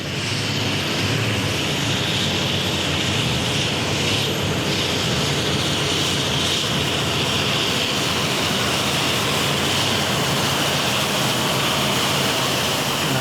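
A pulling tractor called Starlight roars continuously at a tractor pulling event, a loud, dense engine howl filling the whole stretch without pause, steady and close, with no talk over it.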